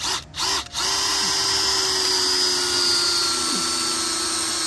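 A DeWalt power drill drives a screw into a wooden fence door, two quick stop-start blips followed by a long, steady, loud motor whine that holds for several seconds with a slight pitch shift as the screw seats.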